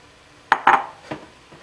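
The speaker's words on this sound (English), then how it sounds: "Now I am going to add the cooked mushrooms." Cooked mushrooms tipped into a pot of rice, giving a few sharp utensil-on-pot clinks and a soft scraping clatter in a brief burst, close and fairly loud, with no talk.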